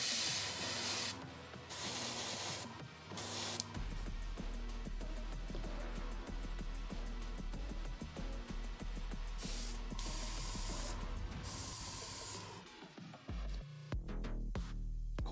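An airbrush sprays paint onto a Gundam Zaku II model kit, a steady airy hiss that starts and stops in bursts, with faint clicks and rattles at the end.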